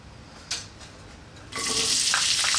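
Onion dropped into hot olive oil in a pan, a sudden loud sizzle bursting up after a quiet moment with a small clink, then a steady close frying hiss; no talking.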